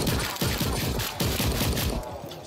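Rapid bursts of video game gunfire from Sker Ritual as rats are shot at, loud and close, with repeated sharp cracks and echoing tails over the full stretch.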